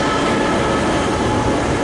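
An ACE passenger train with coaches and a Siemens Charger SC44 locomotive passes close and loud, a dense, steady roar of rolling wheels and rushing air with no break.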